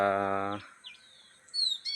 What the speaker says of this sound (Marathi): संध्याकाळची पाखरं मस्त आवाज यायला लागल्या